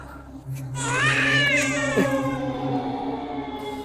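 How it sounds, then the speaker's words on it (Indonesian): A baby cries in a wailing, rising-and-falling burst that starts abruptly and trails into whimpering sobs, fairly loud and close, with no talk over it. "Beneran suara bayi itu."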